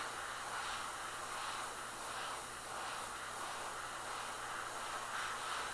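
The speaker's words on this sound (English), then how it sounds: "now I can just kind of airbrush that fade the rest of the way" An airbrush spraying paint to blend a soft fade, producing a steady, close, continuous hiss that runs evenly throughout without pauses.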